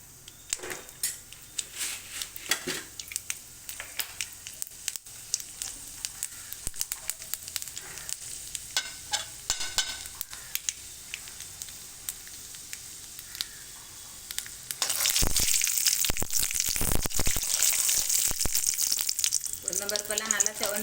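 Mustard seeds and urad dal frying in hot oil for a ponnanganni keerai poriyal, with a steady sizzle that swells louder and brighter toward the end, alongside occasional clinks of a spoon against the pan.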